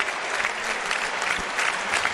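A handball arena crowd gives a standing ovation to a player leaving the court in an Italian Serie A match, a thick, continuous roar of applause with scattered louder claps.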